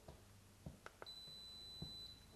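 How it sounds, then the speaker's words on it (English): A Daikin split air conditioner signals fault code E7 with one long, steady high-pitched beep lasting about a second. It is faint and comes after a few soft clicks, with no talking. "When it gets to 7, because we know it was E7 last time, we'll get a long beep."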